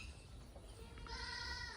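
Goats on a goat farm with young kids present, a bleat rising from the middle of the clip, faint and somewhat distant over a low steady background hum.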